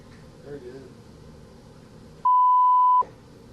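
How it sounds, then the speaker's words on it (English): A single steady censorship bleep lasts about three-quarters of a second, loud and alone, cutting into talk on a wrestling recap show; speech resumes right after. "I heard kind of a beeping thing."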